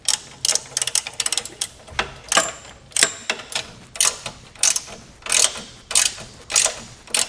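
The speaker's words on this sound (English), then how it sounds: "So we'll go ahead and get these cranked down." A hand ratchet cranks down base plate bolts on a 2019 Jeep Wrangler, close and crisp, with rapid bursts of pawl clicks repeating in a steady back-and-forth rhythm.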